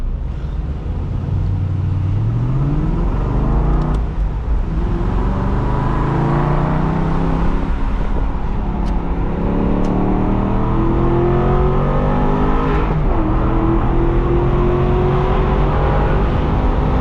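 A 2008 Aston Martin Vantage V8 engine pulls hard on a test drive, heard loud from inside the car as the revs climb repeatedly through successive gears, each rise followed by a brief drop.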